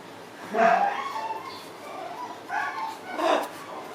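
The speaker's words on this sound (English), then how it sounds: "Do you hear doggies already?" Dogs yip and bark in short bursts nearby, two clusters of high excited calls with a whimpering edge, heard indoors in a living room.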